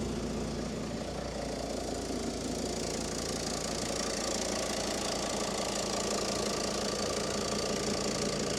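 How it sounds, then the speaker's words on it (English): A 2000 Mercedes Sprinter's OM602 diesel engine idles just after start-up, a steady, close, clattering diesel knock with a continuous low rumble and no voices. "OM602 diesel engine, a venerable and stout workhorse."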